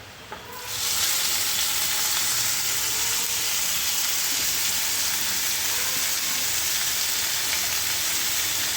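Garlic fried in a pan starts with a quiet moment, then breaks into loud, continuous, hissing sizzle that stays close and steady to the end, with no voices heard.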